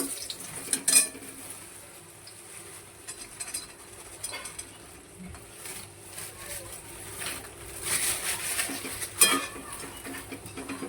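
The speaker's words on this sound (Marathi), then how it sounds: "मकाने भाजून घेते मस्त तुपामध्ये" Fox nuts (makhana) being roasted in ghee in a pan, with irregular scraping, stirring and light clinks of a utensil against the metal over a soft background sizzle, louder bursts coming in clusters.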